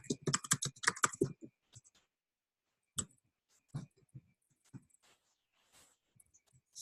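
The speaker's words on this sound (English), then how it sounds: "I'm just going to type in an address." Fingers type on a computer keyboard, starting with a quick run of close, crisp keystrokes, then slowing to scattered single clicks and taps with pauses between.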